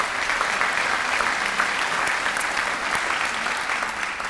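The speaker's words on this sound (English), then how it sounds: "Mr. Choto, round of applause for him" Audience at an employee recognition celebration gives a round of applause, a full, steady burst of many people clapping that holds evenly loud from start to finish, with no talk over it.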